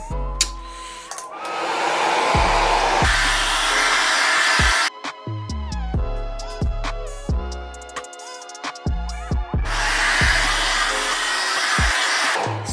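A hair dryer blowing on natural hair, loud and close, its whooshing roar cutting off and starting again several times with quieter gaps between bursts.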